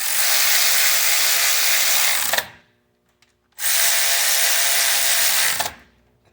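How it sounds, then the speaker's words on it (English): A battery ratchet tightens valley pan bolts on an LM7 5.3 LS engine, giving two long, steady whirring bursts of about two seconds each, separated by a short pause, close and loud with no talking. "I'm sitting here running a battery ratchet"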